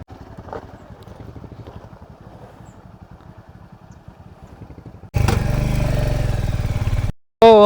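A Hunter motorcycle rides up a steep, dangerous ghat road in Telangana. Its engine pulses steadily and up close at first, then a loud, sustained rush of noise takes over near the end.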